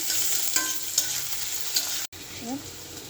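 Chopped garlic hits hot oil in a pan with a steady sizzle, stirred with a few light utensil scrapes, fairly close, with a brief cut near the end and no talking.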